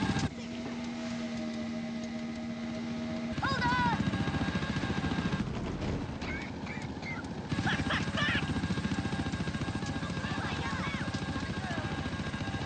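A helicopter in the video game GTA IV whirs steadily throughout under continuous game sounds, with a low engine drone and rotor chop, while people talk over it.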